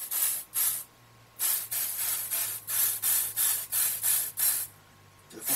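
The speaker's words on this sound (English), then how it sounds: "Just spray it." An aerosol spray can fires a series of short, close hissing bursts, roughly ten in irregular succession with brief quiet gaps between, used for a floral craft project with gel medium.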